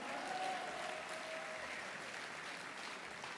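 An audience at an extraordinary party congress applauds, a faint and distant continuous wash of clapping that holds steady for a few seconds with no voices over it.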